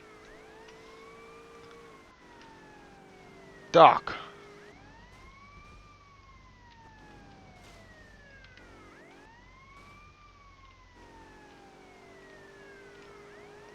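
A police car siren in GTA Vice City (Re-textured Vice City mod) wails in repeated rising and falling sweeps, broken by one sharp loud thump, while someone briefly speaks.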